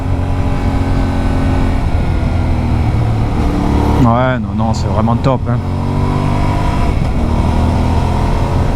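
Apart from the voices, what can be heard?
Yamaha Ténéré 700 World Raid motorcycle engine accelerating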